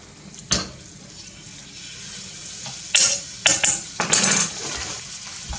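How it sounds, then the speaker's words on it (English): Beef sizzles in olive oil in a pan with a soft steady hiss, broken by a few scraping stirs and utensil clinks close by. "start off with the beef and frying it up in some olive oil"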